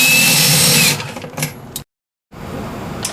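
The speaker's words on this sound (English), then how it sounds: "You're going to remove them with your cordless drill" A cordless drill backs screws out of the freezer section of a Norcold RV refrigerator, with a loud close whirring run that drops off, followed by a brief stutter and a short silence before faint handling noise.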